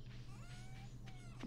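Soft, faint meows from a cat in a farming video game sit over a constant low hum of game music.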